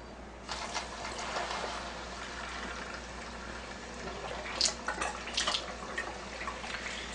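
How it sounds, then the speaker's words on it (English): Water flowing steadily through a Kangen alkaline water ionizer machine while it is flushed of calcium, a continuous close hiss of running water with a few brief splashy bursts near the end. "I'm just going to go ahead and run water through it to clear out any calcium that may be floating inside the machine"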